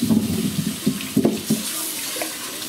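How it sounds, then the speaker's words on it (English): Water runs steadily from a kitchen tap over potatoes being rinsed in a sink for salt potatoes, a close, continuous splashing with a few brief louder surges. "Rinse off the potatoes."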